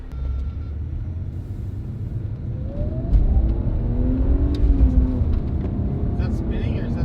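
A BMW E46 drift car drives along with a loud, steady engine rumble that rises as it accelerates and revs, with people talking inside the cabin.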